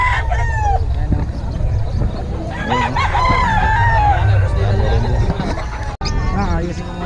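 Roosters at a bird market in Bocaue crow loudly and hens cluck nearby, the calls rising over a busy babble of people talking throughout.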